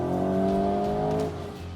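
A Volkswagen Golf GTI engine holds a steady, loud revving drone with strong harmonic tones, then eases off and settles lower near the end.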